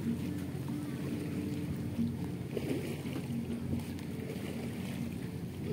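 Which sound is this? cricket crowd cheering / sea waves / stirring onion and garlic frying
sea waves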